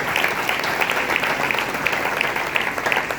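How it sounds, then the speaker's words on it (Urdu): A church congregation applauds loudly in a worship service, a dense, sustained wash of clapping from many hands filling the room without a break. "آئیں اس کی تعریف میں زوردار تالیاں بجائیں"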